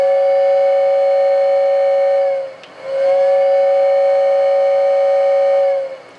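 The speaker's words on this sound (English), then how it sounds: "Lionel air whistle." A Lionel Santa's Flyer toy train gives two long blasts of its chime-like air whistle. The steady tones dip briefly between the blasts and sound loud and close.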